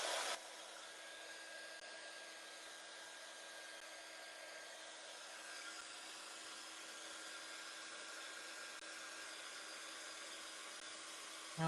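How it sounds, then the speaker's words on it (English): Heat gun running at a craft desk, a steady close whooshing blower drone with a faint constant whine, unchanging throughout with no talk. "I've rearranged my craft desk so my heat gun is right next to me now."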